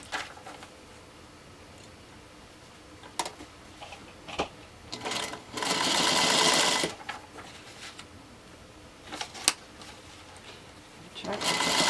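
A featherweight sewing machine set to 20 stitches per inch chain pieces fabric, clicking softly and unevenly, then running in a loud steady burst for about two seconds before falling back to scattered ticks.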